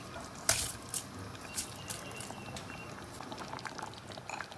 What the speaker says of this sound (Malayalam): ഇപ്പോൾ അത് ഞാൻ അരി ഇട്ട് കൊടുത്തിട്ടുണ്ട്